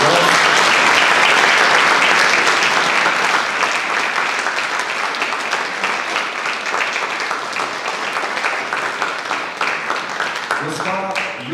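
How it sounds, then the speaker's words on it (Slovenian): Sustained audience applause in a cultural hall during a municipal anniversary ceremony, dense and loud at first and then easing slightly while continuing steadily, with a voice beginning to speak right at the end. "Prosim za aplavz."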